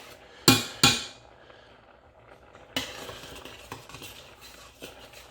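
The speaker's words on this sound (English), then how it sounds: "Tablespoon of coriander in, give it a stir." A spoon clinks hard twice against a metal pot, then stirs ground coriander into it with a scraping, rattling sound, close and alone, with a few lighter taps.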